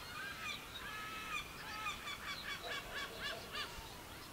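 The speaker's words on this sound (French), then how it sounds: "C'est le réveil des oiseaux." Birds, goose-like, wake at dawn at the Danube port in Ruse, Bulgaria, giving repeated honking calls in an irregular series over a soft outdoor background hiss, fairly distant and faint.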